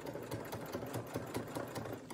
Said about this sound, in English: So I'll back stitch at the beginning and the end of the seam.